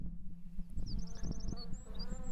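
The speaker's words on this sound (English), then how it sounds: "Oh, the bees." Buzzing of bees from a Demon Slayer anime episode, a busy insect drone over low background music and effects with bright chirping tones, steady and fairly loud for a couple of seconds.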